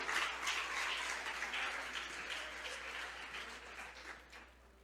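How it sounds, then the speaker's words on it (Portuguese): A church congregation applauds during a Portuguese sermon, a dense roomful of clapping that starts strong and gradually tapers off, with a low hum beneath. "Você pode aplaudir o Senhor"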